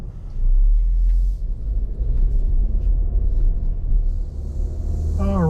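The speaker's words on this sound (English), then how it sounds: "we are heading out of the dealership in this 2023 Equinox RS" A 2023 Chevrolet Equinox RS AWD pulling out of a dealership lot, a low steady engine and road rumble with faint interior noise, a brief rising tonal chirp near the end, no clear talking.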